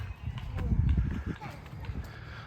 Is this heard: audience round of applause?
no